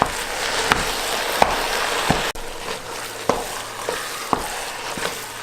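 Hot and regular pork sausage cooking with vegetables in a pan for chili, a steady close sizzle punctuated every second or so by sharp knocks and scrapes of a utensil stirring the mixture.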